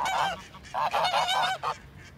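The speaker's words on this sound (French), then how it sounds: "donc à droite c'est un jar, donc un jar de l'année dernière que j'ai eu dans mes jeunes" A young male goose (gander) on a breeding farm gives a series of loud, nasal honks, several short calls in quick bursts close by, with no talking.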